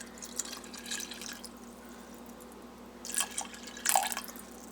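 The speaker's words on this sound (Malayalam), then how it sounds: "അതിലേക്ക് നമ്മൾ ശർക്കര പാനിയില്ല അത് ഒഴിച്ചു കൊടുക്കുക" Jaggery syrup poured onto washed rice in a blender jar, a soft, splashy trickling stream that comes in a few bursts, with the last pour fuller and closer, under a faint steady hum.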